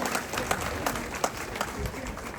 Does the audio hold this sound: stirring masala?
no